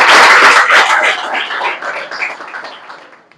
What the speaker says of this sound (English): Let's start this by giving a round of applause to our master